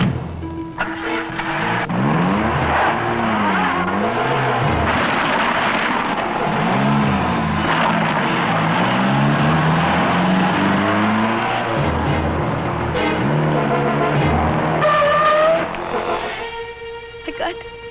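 A car drives off amid a tense movie scene, its engine revving and rising in pitch with tire squeal, loud and close over about eighteen seconds, with shouting voices mixed in before the sound fades.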